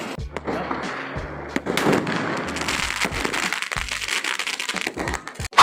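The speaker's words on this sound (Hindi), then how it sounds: "अब हम चलाएंगे पटाखे।" Firecrackers go off at home during a birthday and Republic Day celebration in India, a dense, continuous run of sharp pops, bangs and crackles, loud and close, with a few louder cracks near the end.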